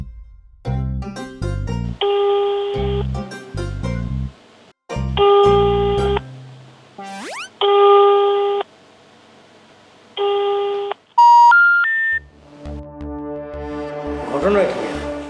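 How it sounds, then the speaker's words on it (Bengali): Phone call tones for an unanswered call, a series of loud electronic ringback and beep tones in repeated blocks, followed by rising beeps and a few notes of background music. "জামাল খুদু আর ফোন ধরতেছে না"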